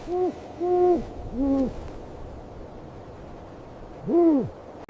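A snowy owl gives four deep, rounded hoots, three close together and one after a pause, each short and clear against a quiet, faintly noisy background.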